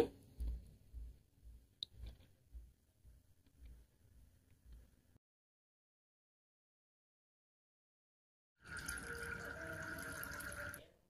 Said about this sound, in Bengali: এখন ভালো মতো ধুয়ে জলটা ছেঁকে নিব।